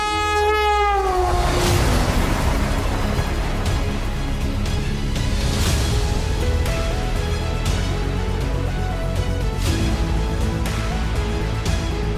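The Vande Bharat express train passes, its horn sounding at the start over a loud, steady roar. Wheels clatter rhythmically on the rails as the carriages keep rolling past close by, with no voices.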